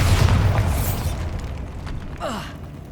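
A Bombarda spell explosion in the Hogwarts Legacy video game sounds as a loud, deep boom that decays into a rumbling, debris-filled tail, followed by a fainter sweeping magical whoosh near the end.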